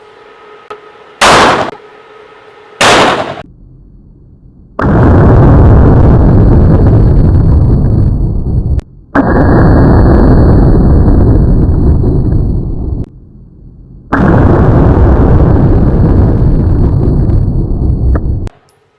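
Gunfire from Oz9c Hyper-comp and Oz9 standard comp pistols with tuned recoil springs and long barrels: two sharp, loud single shots about a second apart, followed by three long, heavy bursts of continuous blasting with brief silent gaps between them.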